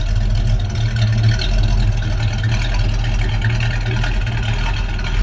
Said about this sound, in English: There you can hear that engine purring.